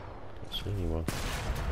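Enemy gunfire in the sniper game Sniper Elite 4 cracks sharply once, close and loud, right after a brief voiced sound, with background noise continuing around it.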